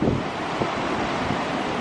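Sea waves rolling onto an Irish shore, a steady broadband wash with gentle surges and some wind buffeting the microphone, no talk.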